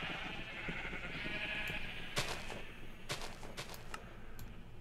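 Several sheep bleat in Minecraft, overlapping calls with sharp bursts of popping sounds mixed in, fairly loud and continuous.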